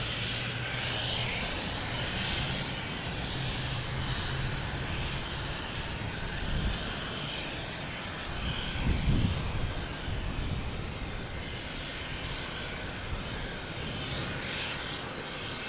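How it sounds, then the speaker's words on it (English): A JetBlue Airbus A220 jet airliner takes off at Boston Logan Airport, a broad, steady engine roar at moderate distance, swelling slightly near the middle and holding constant throughout without any talk. "Next taking off, we have a JetBlue heading to Detroit, an A220 flight 1337."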